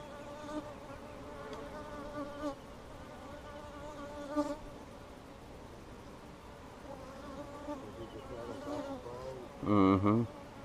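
Honey bees swarming around a new hive split in a bee yard, a close continuous insect drone with individual bees buzzing past, ending in one loud nearby buzz.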